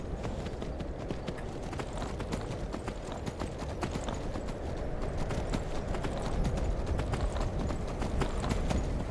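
Horse hooves clip-clop steadily in the Skyrim video game, a continuous rhythmic trot of close, fairly loud hoofbeats over constant ambient noise, with no talking.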